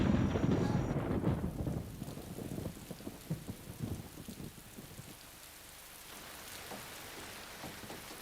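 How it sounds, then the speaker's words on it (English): A heavy tropical downpour in Chiapas opens with a loud rolling thunderclap, then settles into a dense, steady hiss of rain pattering on surfaces with scattered nearer drops. "The rain is incredibly heavy"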